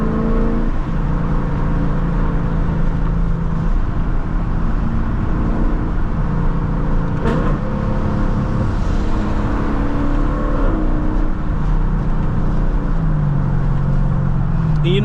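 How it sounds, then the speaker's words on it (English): A Lexus LC 500 driving with the windows down, its engine a continuous loud rumble mixed with road and wind noise, rising and shifting in pitch toward the end. "Just enjoying the sounds of the LC while we go get that pickup food."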